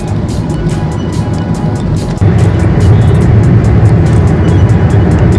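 Steady road traffic on a hazy highway toward Haldwani, India, with a continuous close engine rumble from a moving vehicle and a brief dip before the noise swells slightly louder, no talking.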